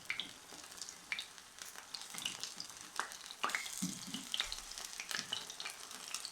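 Chicken pieces fry in shallow oil for fried chicken, a busy crackling sizzle broken by irregular bumps and clatter as the pieces are moved and turned in the pan.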